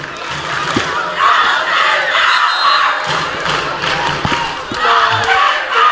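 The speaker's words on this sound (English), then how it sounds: "the kids cheering over there in the stands" Crowd of kids cheering and shouting in the stands at a high school football game, Sultan vs. Nathan Hale, a steady roar of voices with louder swells near the start and end, plus a few thumps.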